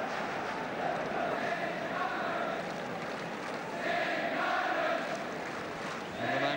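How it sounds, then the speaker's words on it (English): A football crowd at Anfield during Liverpool v Aston Villa chants a player's name, a broad, distant roar of massed voices rising and falling in rhythmic waves throughout. "And the name of Steve Highway echoing all around Anfield"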